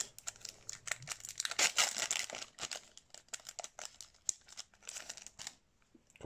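A crinkly foil wrapper of a Pokémon booster pack is torn open and crumpled near the microphone, producing a dense run of sharp rustles and tearing crackles that fades near the end.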